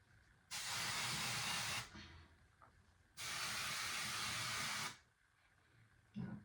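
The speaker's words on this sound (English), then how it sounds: "so I grab the top and then I spray all around" Aerosol can of color spray paint hissing in two long bursts of about a second and a half each, close and loud, with a short pause between and quiet room noise around them.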